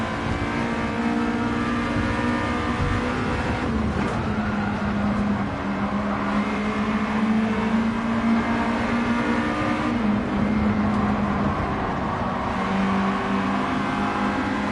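A race car engine in the Gran Turismo racing game, held near and loud with sustained revving and rising pitch sweeps as it accelerates and shifts, droning continuously without speech.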